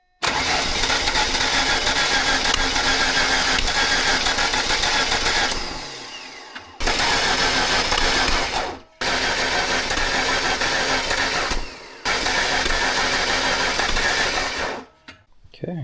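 Ford Focus engine cranking over on the starter, loud and close, in several long churning bursts separated by short pauses.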